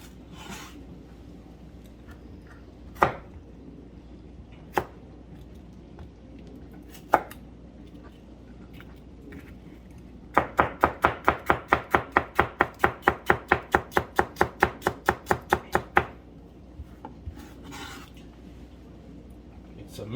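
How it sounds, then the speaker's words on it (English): A knife chops onions into julienne strips on a board, with a few scattered single knocks followed by a fast, even run of about twenty crisp close chops that then stops. Faint voices are heard between the strokes. "Julienne onions."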